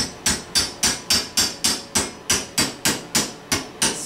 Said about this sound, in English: I'm just going to knock it in with a hammer